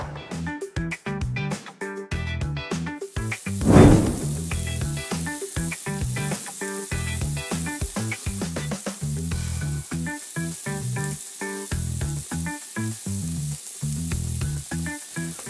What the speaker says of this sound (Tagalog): so maaari na po nating ihawin ang hito